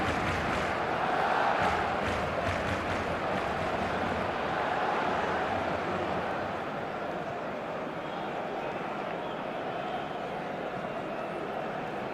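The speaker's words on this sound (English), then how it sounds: "Maybe the crowd will stay a little quieter next time." Stadium crowd noise from an eFootball match, a steady, loud wash of massed voices and cheering that holds throughout without a break, swelling slightly early on and easing a little toward the end.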